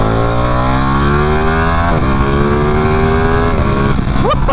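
A Ducati Panigale 959 motorcycle engine revs hard and close, its loud rasping note sweeping up and falling back in repeated throttle blips with no talking.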